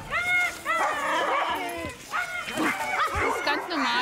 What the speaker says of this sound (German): Es sind Siberian Huskies.